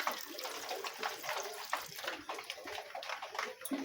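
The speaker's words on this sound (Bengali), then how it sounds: "এবার আমরা পরিমাণ মতন জল দিয়ে দেব এটাকে ভাবিয়ে নেব" Water pours into a pan of fig curry with turmeric, a steady broadband splash running for several seconds at moderate level with no talk.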